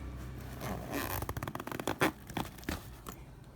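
Pack of football cards being torn open by hand, a burst of close crinkling, ripping and rustling of foil wrapper that comes in quick irregular bursts, then trails off, with no talking.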